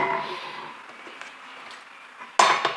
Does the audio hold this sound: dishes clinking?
yes